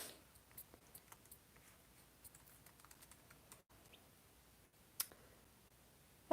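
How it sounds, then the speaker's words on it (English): Someone types on a computer keyboard, the quiet, uneven key clicks faint against low room noise, with one sharper click near the end. "I'm just typing the video description real quick."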